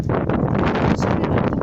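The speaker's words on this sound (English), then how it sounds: "I'm sorry, it's really windy today." Strong gusts of wind buffet a microphone outdoors in a large garden, a dense continuous roar throughout, with a couple of faint spoken words underneath.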